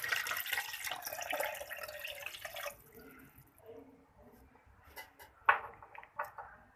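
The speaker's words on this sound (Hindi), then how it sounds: "इसके बाद इसके अंदर डालेंगे पानी।" Water poured into a bowl of yogurt while making salted lassi, a steady splashing stream for nearly three seconds that stops, followed by a few soft drips and knocks.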